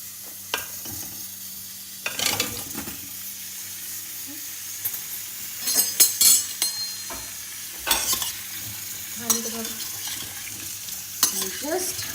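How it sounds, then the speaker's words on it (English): Potatoes added to a pot of hot oil on a low flame and tossed around for a Calcutta biryani, giving a soft sizzle with repeated scraping stirs and clinks, close by. "I have put it back on fire, on sim, and now I'm going to just add the potatoes"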